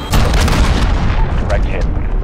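An airstrike missile hits in Call of Duty Modern Warfare, loud and close. A sharp boom rolls into dense crackling debris and rumble that slowly fades.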